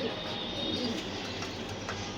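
Racing pigeons cooing inside a loft, a soft, steady murmur of low coos running throughout with faint background noise and no clear talk.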